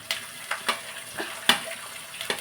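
Peanuts with garlic and coriander frying in oil: a soft ongoing sizzle with several light stirring scrapes and clinks at irregular intervals, close and moderate in level, no talk.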